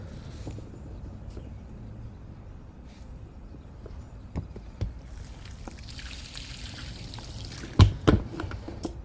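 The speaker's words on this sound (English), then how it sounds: "just filling with water." Water trickles into the fuel tank of a 1978 Honda Goldwing motorcycle on a freezing day. A faint, quiet pour runs steadily, with a few sharp clunks and knocks near the end.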